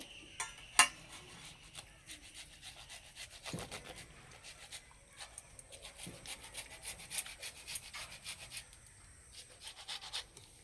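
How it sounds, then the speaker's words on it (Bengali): Ripe, sweet peeled mango rubbed against a kitchen grater: faint, repeated rasping strokes with a soft scraping rhythm, quiet and close, no talking. "আর এখানে একটা গেটার নিয়েছে, গেটারে একটু ঘষে নেব।"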